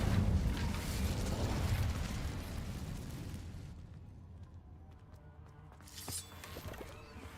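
Incendio fire spell cast in Hogwarts Legacy: a loud, sustained roaring burst of flame for several seconds, fading into quieter game ambience with a brief crackling flare near the end.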